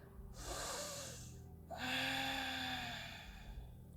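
Deep, slow breaths during a yoga sun salutation: two long, airy inhales drawn through the nose, close and soft, each with a faint whistling tone, separated by a brief pause and heard alone.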